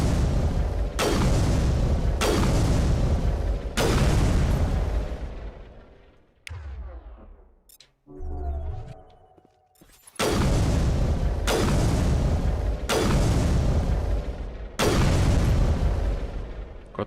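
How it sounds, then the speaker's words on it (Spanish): Sniper rifle fire in the Mass Effect video game: heavy, booming shots, nine in all, each with a long decaying echo, with a quieter gap of rattles and clicks in the middle. "Cuatro disparos de un francotirador"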